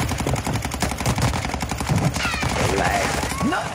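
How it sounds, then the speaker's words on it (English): Automatic gunfire in the video game Warzone 2, rapid bursts of machine-gun shots in a fast rhythm with some scattered rounds, fairly loud throughout the short stretch with no talking. "This time this guy's shooting the ground."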